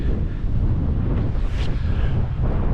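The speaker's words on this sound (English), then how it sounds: "It's kicking up a wee bit wind wise" Strong wind gusting across the 588-metre summit of Slieve Foye in the Cooley Mountains, a steady loud roar buffeting the microphone throughout with no letup.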